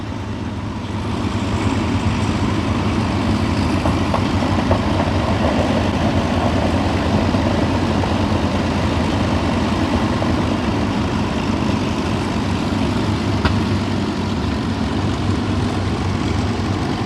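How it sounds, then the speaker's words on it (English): The four Merlin engines of a Lancaster bomber, bomb doors open, drone in a dense, steady roar that holds at an even loudness the whole time, with no talking over it. "Them 4 Merlin engines."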